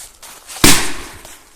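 A Dum Bum Silver P7A14 firecracker goes off under a pot outdoors with a single sharp, loud bang that decays quickly over quieter background.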